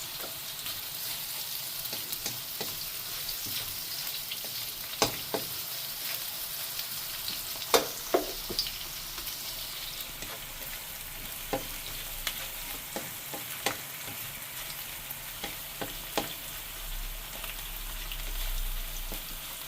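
Garlic and onion sauté in a pan for chicken broccoli with oyster sauce, giving a steady close sizzle with scattered clicks and scrapes of stirring. No one speaks.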